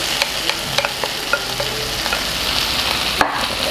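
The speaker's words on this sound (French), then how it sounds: "je rajoute ma viande hachée" Minced beef dropped into a hot pan with tomato paste for a bolognese sauce, crackling in a steady close sizzle with scattered pops and a few stirring scrapes, then a sharp clatter near the end.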